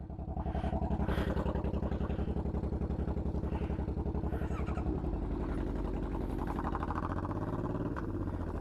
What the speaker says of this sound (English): Let's see if you can hear my bike over it.